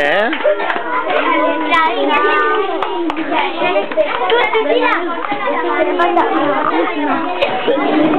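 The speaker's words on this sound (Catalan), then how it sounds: "Oh! Un aplaudiment!" Children clap together in a classroom, a lively burst of applause mixed with excited kid voices and chatter that runs steadily throughout.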